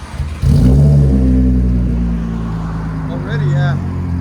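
Supercharged 3.0L V6 in an Audi S4 with down pipes and a 14-inch Magnaflow exhaust, revving loudly once then settling into a steady rumble, with brief talking near the end.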